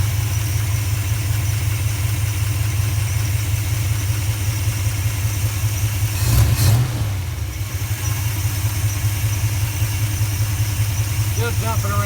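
Carbureted car engine with a four-barrel carburetor fitted on a two-barrel intake and a suspected blown head gasket, idling with a steady, loud, slightly uneven low drone up close, one brief surge midway.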